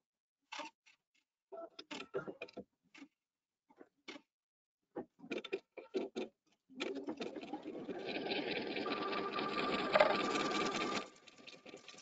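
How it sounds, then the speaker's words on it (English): A Pfaff embroidery machine sews a basting stitch around an outline. Scattered short clicks and taps come first, then a steady, close, whirring hum of rapid stitching runs for about five seconds before stopping. "It's doing a basting stitch just around the outside."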